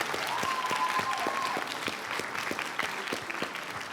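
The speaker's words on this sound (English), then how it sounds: "Big round of applause, I think." An audience at a student innovation challenge gives a round of applause: continuous, dense clapping with distinct sharp claps, moderately loud and steady, a faint whistle-like tone briefly above it.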